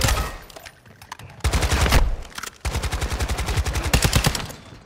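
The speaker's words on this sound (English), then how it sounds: "Taking effective fire!" Rapid bursts of automatic gunfire in a video game on Ashika Island, loud, close rattling volleys separated by short pauses, with steady fast-paced shots filling most of the stretch and no voices over it.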